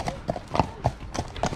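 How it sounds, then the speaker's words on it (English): Horses walking past on a path by the Caldon Canal, hooves clip-clopping in a steady, close, fairly loud rhythm on hard ground, with no voices over them. "Just let the horses past."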